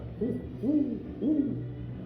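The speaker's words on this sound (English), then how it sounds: "when we hear, that typical hoot, a lot of times it's a great horned owl" Great horned owl giving three deep, rounded hoots spaced about half a second apart, moderately near, against a faint steady background hum, with no one talking.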